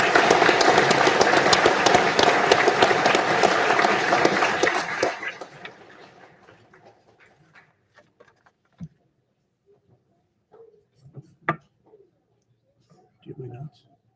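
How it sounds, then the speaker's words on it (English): A large crowd applauds cadets at an Academy Class 356 graduation ceremony, loud and dense for several seconds before fading out, followed by near silence broken by a few scattered knocks and faint sounds. "Let's give one more big round of applause for all of our graduates"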